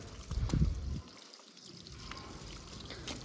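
Water pours and trickles over a car as it is washed, a loud splashing burst near the start that eases into a steady, softer stream of running water.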